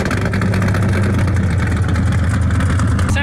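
A car engine idling and revving with a deep, lumpy, throbbing rumble like a Harley-Davidson motorcycle, loud and close, held at a steady pulse throughout.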